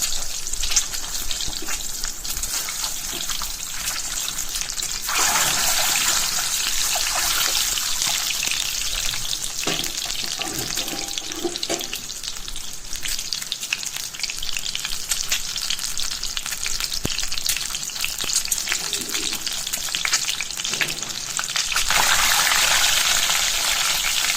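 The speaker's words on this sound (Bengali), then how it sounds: "আমি প্রত্যেকটা ডিমকে সুন্দর করে একটু ফ্রাই করে নেব" Eggs sizzle in hot oil in a pan as they fry to a light brown for an egg curry with coconut milk, a continuous loud crackle with occasional stirring and shifts in intensity.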